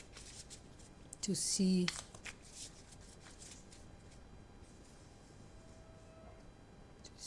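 Tarot cards being shuffled and drawn, a brief crisp riffle and slide of cards up close, followed by low background hiss with someone speaking softly.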